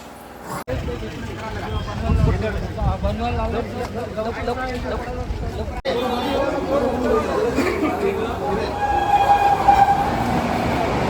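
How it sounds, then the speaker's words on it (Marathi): A train at a station rumbles and squeals as it arrives, under loud, dense crowd chatter from people waiting on the platform, with a train horn sounding toward the end. "ट्रेनमधून उतरणार आहेत आमच्या बाळासाहेब आंबेडकर"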